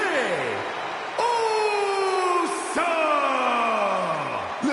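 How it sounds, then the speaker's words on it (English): Arena crowd in the WWE 2K26 wrestling video game at a Friday Night SmackDown main event entrance, a loud, sustained roar of cheering and yelling with rising whoops that swell repeatedly across the whole stretch. "Listen to the noise from this crowd."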